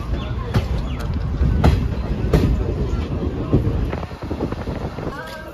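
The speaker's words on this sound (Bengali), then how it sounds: "ঠিক 2 মিনিট ট্রেন দাঁড়ানোর পরে ট্রেনটা আবার ছেড়ে দিয়েছে বর্ধমান জংশন।" A passenger train pulls out of Bardhaman Junction, a close, continuous rumble with rhythmic clickety-clack of wheels over rail joints and wind buffeting the microphone throughout.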